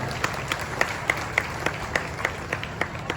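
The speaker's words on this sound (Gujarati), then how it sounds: "પાછા એકવાર ભરતસિંહ માટે જોરદાર તાળીઓ પાડો." Audience applause for Bharatsinh during a speech, heard as a steady run of evenly spaced, crisp claps at moderate volume with no voices over it.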